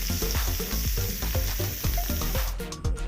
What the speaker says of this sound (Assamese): এইখিনি এতিয়া তেলত ফ্ৰাই কৰি ল'ব লাগিব